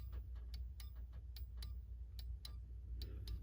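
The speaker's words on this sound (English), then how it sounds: "Now I want you to listen to this clock." A Hermle clock movement ticks steadily and faintly, about a dozen crisp, slightly uneven ticks over a low background hum, with no one talking.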